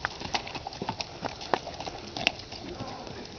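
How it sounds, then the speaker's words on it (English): A horse canters, its hoofbeats landing in a quick uneven rhythm of close, distinct clip-clops with a rider's breath and motion noise around them. "I'm gonna canter just a little bit"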